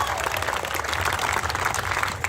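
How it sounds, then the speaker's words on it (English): A crowd at a racing event applauds a retired stock car driver, a short burst of many hands clapping at middle distance over a low rumble of background noise. "give Kurt a nice round of applause"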